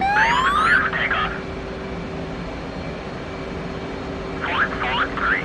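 Steady broadband jet engine roar from an aircraft rolling down the runway for takeoff at Nellis in the DCS combat flight simulator, with brief radio-like voice fragments near the start and end.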